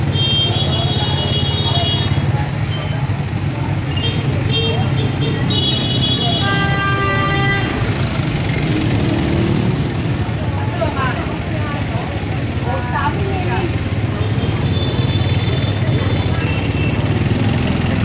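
Busy Vietnamese street traffic drones steadily with many motorcycle engines, punctuated by repeated horn toots, while a person talks over the din.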